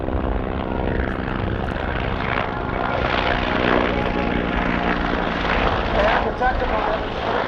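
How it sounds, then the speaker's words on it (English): An Outlaw helicopter, the civilian version of the military Griffin, flies at an airshow with a loud, steady rotor and engine roar that fills the scene. A public-address announcer talks over it throughout. "Technical demonstration, the Outlaw helicopter, or in the military configuration, of course, the Griffin"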